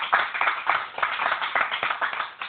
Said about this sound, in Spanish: Denle un aplauso, hermano.